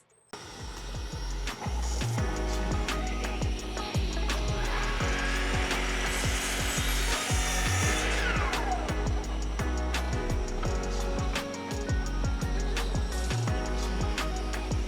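A saw cuts wood in a small workshop while a dust collection system runs, giving a loud, continuous whirring roar with a rising and falling cutting whine mid-cut and scattered mechanical clicks throughout.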